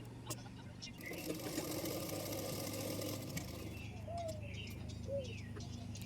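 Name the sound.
sewing machine stitching blouse side seam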